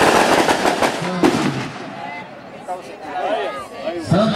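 Fireworks crackle and pop at the inauguration of the Santa Luzia chapel in the Santa Maria community. Dense bursts come first, then fade under a crowd's voices and singing.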